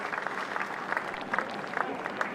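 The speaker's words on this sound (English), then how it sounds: "It's a warm applause from the crowd." Warm applause from a cricket crowd at a South Africa–New Zealand Test as du Plessis reaches his fifty, steady clapping filling the ground with a few louder bursts.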